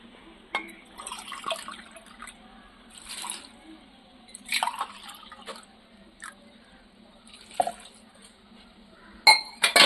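Water poured in three bursts into a cooking pot in a home kitchen, with glassy clinks and splashy pours separated by quiet gaps and a sharper metallic clatter at the end.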